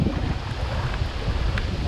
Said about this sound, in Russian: ветер довольно сильный